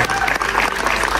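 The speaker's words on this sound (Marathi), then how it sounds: "आपण तिच्यासाठी जोरदार टाळ्या वाजवू" A short burst of dense audience applause for an actress at a trailer launch event, steady clapping from a crowd with no pauses.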